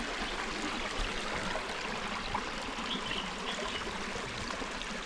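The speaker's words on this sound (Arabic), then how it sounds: "الماء يجي من داخل" Water stream flowing near Imouzar Idawtanan in the outdoors, a steady close rushing and trickling with no voices over it.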